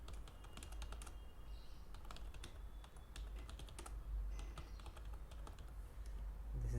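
Steady clicking of keys on a computer keyboard as C# code is typed, a continuous quiet run of taps at close range with no talking.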